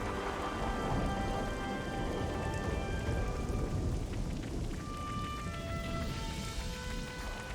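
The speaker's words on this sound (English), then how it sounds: "Is that thunder?" In the Xenoblade Chronicles 3 game world, steady rain patters loudly and continuously, with a low rumble of thunder mixed in beneath it and faint tonal game sounds on top.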